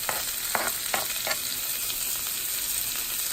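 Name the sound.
onions sizzling as they are dropped into hot canola oil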